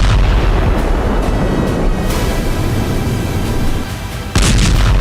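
Missile strikes and explosions in war news footage from Gaza's Rafah area, heard as a loud, dense roar of booming blasts and rumbling that persists throughout, with a brief dip before another sharp burst at the end.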